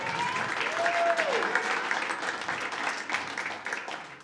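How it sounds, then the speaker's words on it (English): A live audience at a stand-up comedy show breaks into dense, sustained applause that fills the whole stretch at a steady level, with a faint whistle briefly rising early on. "Let's give a round of applause for them."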